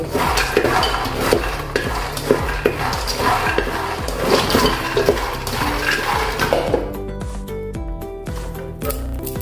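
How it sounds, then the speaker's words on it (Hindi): Makhana (fox nuts) dry-roasting in a large pot, with a steady run of dense scraping and rattling as a spoon stirs them against the metal. It is loud and continuous, then turns quieter and sparser toward the end. "अभी हम मखाने को भून लेंगे।"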